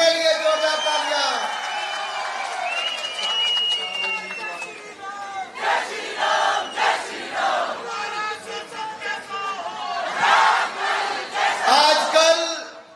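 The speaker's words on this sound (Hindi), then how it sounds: "अपने लिए जोरदार तालियां।" A large crowd at a political nomination rally in Himachal Pradesh cheers and shouts in rising waves, with chanted cries, whoops and bursts of clapping swelling and fading again and again, loud and close.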